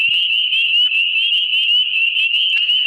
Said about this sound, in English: We got spring peepers calling.